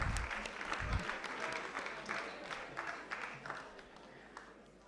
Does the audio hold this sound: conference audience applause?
yes